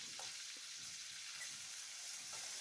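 Garlic fries in a pan for tomato chutney, giving a soft, steady sizzle and hiss with occasional faint stirring clicks.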